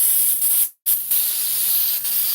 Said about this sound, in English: Get some more of this contact cleaner